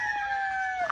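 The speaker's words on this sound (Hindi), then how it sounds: "ये परिंदों की आवाज़ें, मुर्गियों की आवाज़ें आप देख सकते हैं।" A rooster crows in one sustained, drawn-out call close by at a farm house zoo, ending in a brief higher note, with no talk over it.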